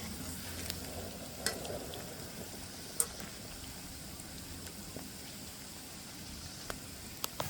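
Cauliflower pakoda deep frying in hot oil in a village kitchen, a steady dense crackling sizzle with occasional sharp pops, close and alone without talk.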